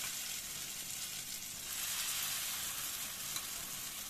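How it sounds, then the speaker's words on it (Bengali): Batter-coated paneer fries in hot oil in a wok, giving a steady, dense sizzle that holds even and fairly close throughout with no one talking. "এখন আমি পনিরগুলো ভেজে নেব।"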